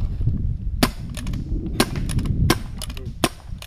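A custom Palmer's Pyre pump gun fires a string of sharp, loud pops, roughly five or six shots at irregular intervals, close by, with low rumbling background between them.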